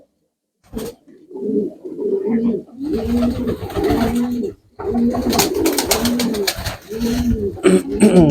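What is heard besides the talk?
white Bakin pigeons cooing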